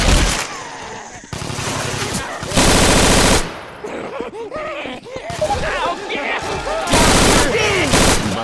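Automatic and machine-gun fire in the zombie shooter Left 4 Dead 2, with loud sustained bursts alternating with quieter stretches of scattered shots and game sounds, while a voice talks intermittently.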